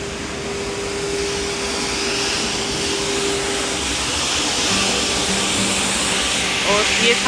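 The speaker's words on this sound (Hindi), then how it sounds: "ये रोड की सफाई हो रही है इस वाली गाड़ी से।" A street cleaning vehicle sweeps a road in Germany with a steady, loud broadband whooshing hiss of brushes and suction, a low engine hum beneath and a faint rattle near the end.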